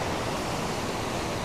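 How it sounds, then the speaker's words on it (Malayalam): Water pours down the tiers of Kozhipara waterfall during a low-water season, making a steady, dense rushing roar with no voices. "വെള്ളം ഇങ്ങനെ തട്ട് തട്ടായിട്ട് ആ ഭാഗത്ത് നിന്ന് ഒഴുകി വരുന്നത് കാണാട്ടോ"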